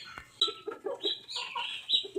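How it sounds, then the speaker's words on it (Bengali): Backyard chickens kept for eggs and meat cluck nearby, a steady string of short calls and higher squawks with no talk over them. "এখানে আমি মুরগি পালন করি"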